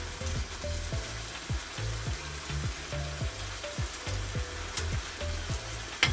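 Bay leaves sizzling as they hit chicken adobo frying in oyster sauce outdoors, a steady crackling hiss with repeated light tapping and stirring clatter throughout, close and fairly loud.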